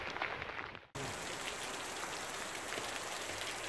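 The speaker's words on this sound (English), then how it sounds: "Just a tiny bit of rain and we will head for the car" Steady rain pours down in a dense hiss, briefly cut off near the start and then continuing evenly and loudly.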